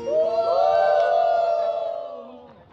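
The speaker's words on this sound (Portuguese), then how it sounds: "Uma grande vaia à exploração infantil." Theater audience at a children's play joining in a loud sustained collective boo, a swelling group vocal that rises and then tapers away over a few seconds.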